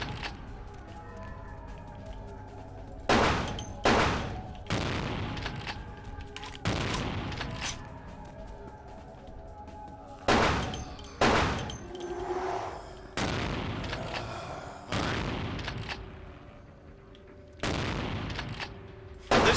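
Shotgun blasts in Vampire the Masquerade Bloodlines fire in irregular bursts, about a dozen loud booming shots with ringing decays, some doubled in quick succession, separated by quieter stretches of game ambience.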